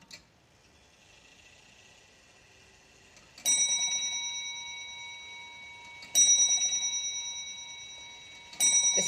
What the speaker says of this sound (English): if you pulled the repeater, it would tell you the last hour that was chimed